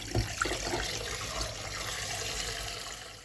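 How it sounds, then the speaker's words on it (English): Raw mutton being washed in water, splashing and running water from a tap with a few sharper sloshes at the start, then a steady flow. "first of all, you have to wash your mutton well"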